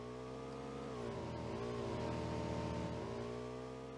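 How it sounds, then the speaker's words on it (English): A car engine revving in the video game PlayerUnknown's Battlegrounds, a steady droning motor that dips and then rises in pitch across a few seconds, heard alone. "if I hear the car, rev up"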